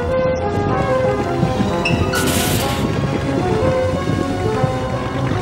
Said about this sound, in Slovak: Rozpútala sa najhoršia búrka, akú kedy Severný pól zažil.